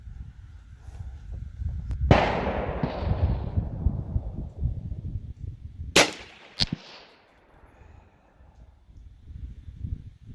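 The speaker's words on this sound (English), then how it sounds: "Alright, I'm going to go for the throat on this one, that first orange dot under the head target." Sharp report from a Rossi RS22M .22 WMR rifle at a long-range accuracy test, a loud crack near the 2-second mark followed by two shorter cracks around 6 seconds, with outdoor ambience between.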